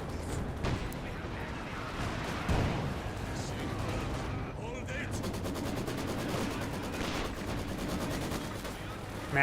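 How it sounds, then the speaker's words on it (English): Maxim machine gun firing in the battle game Company of Heroes 2, bursts of rapid gunfire mixed with distant artillery and battle noise, steady and dense throughout, under a commentator's voice. "Maxim firing away"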